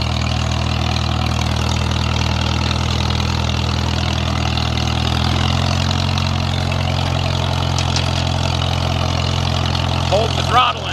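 A Farmall 300 tractor engine labours up a steep muddy trail, a steady low rumble with strong harmonic drone held throughout, shifting slightly partway as the load changes, with a brief clatter near the end.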